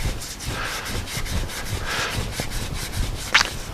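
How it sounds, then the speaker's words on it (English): Scotch-Brite pad rubbed back and forth over the overdrive tail seal surface, a quiet close scratchy scrubbing in irregular strokes with one brief sharper scrape near the end. "use a small length of Scotch-Brite and just polish up that surface"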